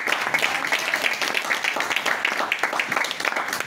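A church congregation applauding steadily, a dense even wash of clapping with some voices and cheering mixed in, sustained throughout.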